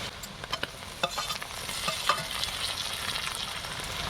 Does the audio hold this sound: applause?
no